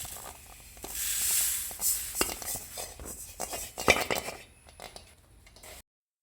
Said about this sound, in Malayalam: ഇനി ഇത് ഒരു പ്ലേറ്റിലേക്ക് മാറ്റി കൊടുക്കാം.